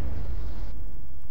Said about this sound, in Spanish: Carga explosiva, a ver si con eso explota.